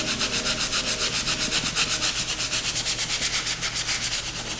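A brush scrubs rhythmically back and forth over the suede of Jordan 5 sneakers during cleaning, a close, soft, steady rubbing with even strokes and no talking.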